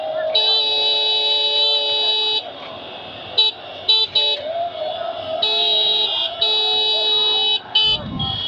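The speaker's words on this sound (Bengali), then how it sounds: "হর্ন আছে, বাজাইতে থাকি আধা ঘন্টা।" Car horns honk in a Dhaka traffic jam between Tejgaon and Motsho Bhaban: loud, nearby overlapping blasts, some long and held, others short and repeated, with brief gaps between bursts.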